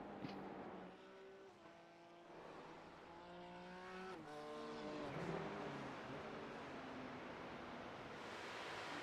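A Ferrari GT3 race car in a racing video game at the Nurburgring, its engine rising and falling through gear changes against a steady rushing wind noise, heard fairly faintly.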